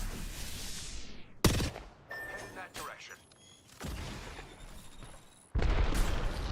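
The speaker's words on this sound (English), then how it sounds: "Not a bad nade." A grenade explodes in a competitive online shooter match, with several sharp booming blasts and gunfire bursts spread across the stretch alongside scattered game effects.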